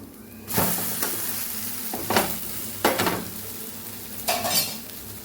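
Handvo frying in oil in a pan gives a steady close sizzle, broken by several sharper bursts of spatula scraping and stirring at roughly regular intervals.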